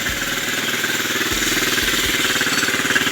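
An Odes Rider 8 125cc ATV engine idles in gear, holding a steady, even, low putter with a rhythmic pulse, close and fairly loud throughout.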